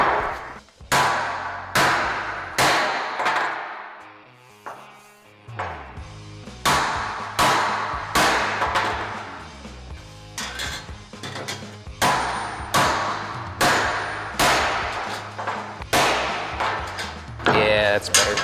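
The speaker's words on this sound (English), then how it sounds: "So, this one I made just to smash with a hammer, so that you can do it just on the table." A hammer pounds sheet metal into a homemade dimple die set on a tabletop, delivering loud, ringing metallic blows in uneven clusters with brief pauses, close and harsh.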